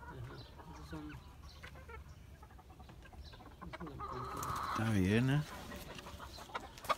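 Nagasaki and kikiriki roosters and hens cluck and call in a friend's yard, with one loud rising crow late on, while people talk nearby.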